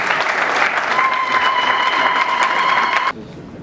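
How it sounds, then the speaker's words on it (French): Audience applause at a book launch ceremony, a dense burst of clapping lasting about three seconds before cutting off abruptly, close and fairly loud. "Est-ce qu'on peut l'encourager par une acclamation?"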